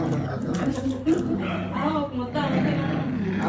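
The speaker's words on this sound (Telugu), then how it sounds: "ఆ పెద్ద కుక్క ఏమో అరుతుంది బాగా ఇదే బావు బావు అని" A big dog barks and yips in short bursts, close by and loud, mixed in with people talking over the noise.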